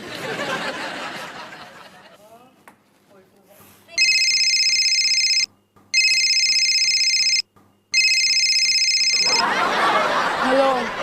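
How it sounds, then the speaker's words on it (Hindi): Telephone ringing in a Disney India sitcom scene, loud electronic ring tones in three long bursts with brief gaps between them, preceded and followed by people talking. "मैं अभी उसे फोन करके पूछता हूँ।"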